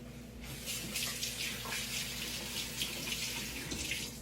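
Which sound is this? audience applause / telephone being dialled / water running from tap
water running from tap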